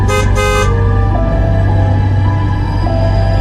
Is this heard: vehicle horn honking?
yes